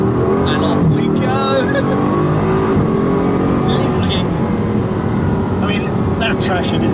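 Inside a Bugatti Chiron pulling away hard, a dense, steady roar of engine and road noise filling the cabin while people talk over it.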